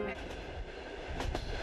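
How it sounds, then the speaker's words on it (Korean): A Trans-Siberian train rolls along the rails between Vladivostok, Khabarovsk and Ulan-Ude: a steady, dense rumble with a couple of sharp wheel clicks near the end. "열차는 블라디보스토크에서 하바롭스크를 지나 울란우데를 향해 가고 있다"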